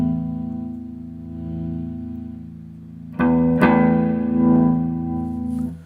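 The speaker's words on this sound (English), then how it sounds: "So not only is the drive increasing the amount of distortion, but it's also the volume as well." Electric guitar through an amp with overdrive drive turned up, a sustained distorted chord ringing out, then a louder freshly struck chord that swells and rings for several seconds before cutting off.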